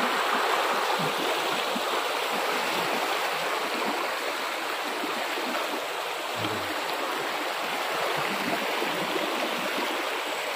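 A river swollen after the first monsoon rain rushes past in a loud, unbroken roar of flowing water, steady and close throughout with no voices.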